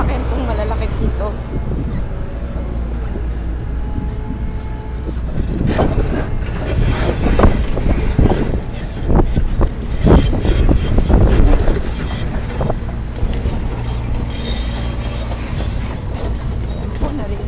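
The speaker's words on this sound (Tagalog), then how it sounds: "Naririnig niyo po yung mga sasakyan dito sa labas" Large vehicles passing on a dusty road outside, a rumbling, rattling roar that swells in the middle and fades, heard with people talking.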